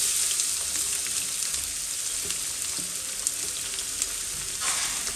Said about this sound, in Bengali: এখানে পেঁয়াজগুলো গোল্ডেন কালার আসার জন্য আমি ফ্রাই করে নেবো মোটামুটি 5-7 মিনিটের মতো